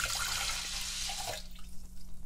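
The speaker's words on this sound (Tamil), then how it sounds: "இப்போ 2 கிளாஸ் தண்ணி ஊற்றிட்டேன்" Water from two glasses is poured into a pot of washed, soaked rice and lentils for sakkarai pongal. A steady splashing rush is heard close by for over a second, then it trails off into a few faint drips.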